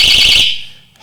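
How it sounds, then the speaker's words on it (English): A loud door alarm gives a piercing, shrill electronic tone for a moment, then cuts off abruptly into near silence. "And then you got something like a door alarm."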